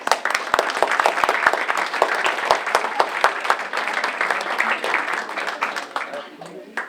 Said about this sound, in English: May we hear a round of applause